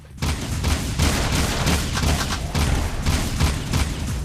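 Rapid gunfire in the Jak 2 video game, dense bursts of shots rattling continuously and loudly with a brief quiet start, no talking over it.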